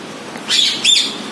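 Two short, bright bird calls ring out in quick succession in a zoo aviary with parrots, loud and close over a quiet background.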